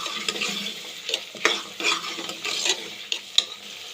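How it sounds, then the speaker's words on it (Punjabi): Vegetable tadka spices sizzling in hot oil in a pan, with a steady crackling fry broken by repeated scraping stir strokes, close and fairly loud with no voices. "ਲਓ ਸਬਜ਼ੀ ਦਾ ਤੜਕਾ ਭੁੱਜਣ ਡਿਆ ਵਾ"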